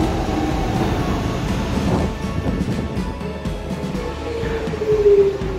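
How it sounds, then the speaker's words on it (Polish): A driverless London light-rail train runs steadily along its track, a continuous rumble with a rising whine and faint wheel squeal toward the end, heard close from on board. "To jest kolejka bez maszynisty. Sama jedzie."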